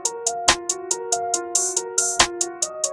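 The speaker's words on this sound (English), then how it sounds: "turning on this envelope with the sus maxed out and the release" An open hi-hat sample with its release envelope shortened, playing short, crisp repeated hits in a steady rhythm over a tonal synth backing, with a few longer, washier strikes.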